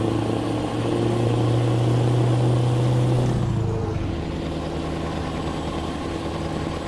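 A Scania truck engine in Euro Truck Simulator 2 drones steadily, its pitch shifting partway through as the load changes, a continuous mid-low hum with no talk.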